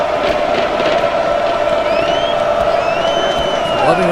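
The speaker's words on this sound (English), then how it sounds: "This crowd has once again gotten very loud." In a college football video game, a stadium crowd at South Carolina roars loudly and continuously, a dense wall of cheering with scattered whistles and whoops.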